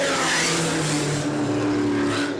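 Race cars scream past at speed on the oval at New Smyrna, a loud, sustained engine roar with shifting pitch from several cars close together, no talk.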